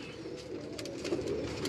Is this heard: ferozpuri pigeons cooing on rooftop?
yes